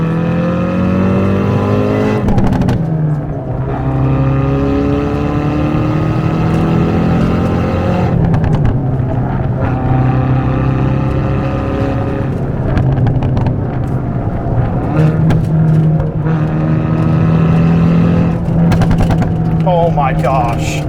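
Hyundai Veloster N engine revving hard, with rising and falling harmonic sweeps and sharp exhaust pops around 5,000 RPM, loud and close inside the cabin over roughly twenty seconds.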